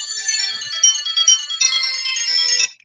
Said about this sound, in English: Sorry, let me turn the notifications off real quick.